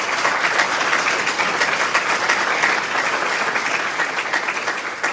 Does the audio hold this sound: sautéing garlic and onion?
no